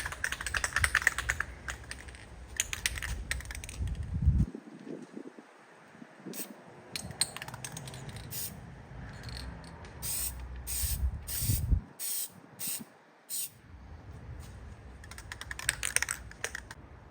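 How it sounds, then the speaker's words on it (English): Light tack coats of black spray paint go onto a Honda CR-V emblem in short bursts of hissing spray, separated by quiet gaps, with a few faint clicks and handling noises between passes. "we're gonna go ahead and start with some of our light tack coats"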